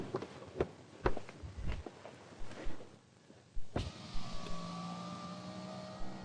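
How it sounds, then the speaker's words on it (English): Electric windows on a Holden Vectra run with a smooth motor whine and a steady hum, preceded by a few clicks and thumps from inside the car. "Electric windows are standard and offer some interesting safety and convenience features"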